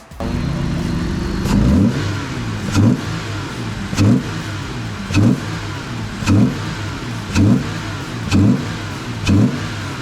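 A tuned Jeep Gladiator engine with an enlarged ram air intake idling, then revved repeatedly in short bursts, about seven quick throttle blips at even intervals, close and loud.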